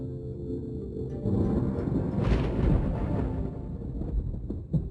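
Thunder in a harbor storm, heard as a deep, rumbling roll that swells after the first second and holds steady, loud and broad, before easing off near the end; no voices.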